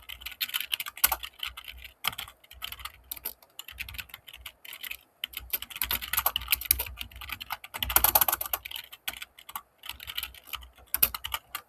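Steady typing on a computer keyboard while writing code, fast clusters of clicky keystrokes close up with short pauses, no voices.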